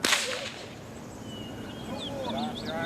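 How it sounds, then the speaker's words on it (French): Sharp whip lashes crack out near the start, followed by faint birdlike calls and a low murmur in the background. "est condamnée à 30 coups de fouet."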